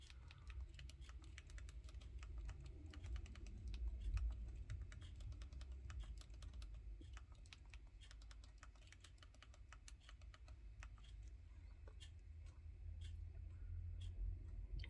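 Fingers typing a username on a computer keyboard, a fast run of light clicking keystrokes in uneven bursts over a low background hum, close and fairly quiet.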